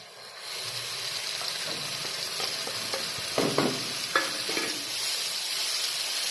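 Tomato paste sizzles and fries in a pan over softened onions, with scraping stirs and soft clinks of a spoon around the middle and toward the end; steady close hiss throughout, no talking.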